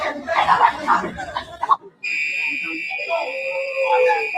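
An alarm starts up abruptly after a burst of laughing and chatter, holding a loud, steady electronic tone that continues under faint background talk.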